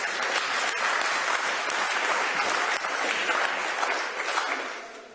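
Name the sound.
applause in council meeting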